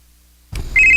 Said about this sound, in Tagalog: Uy, si Pastor Newmil maning nanawag